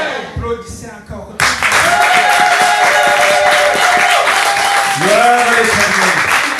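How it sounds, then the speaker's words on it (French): A church congregation bursts into loud, sustained applause and clapping that fills the space, with a preacher's voice calling out over the crowd at times. "Applaudissez encore."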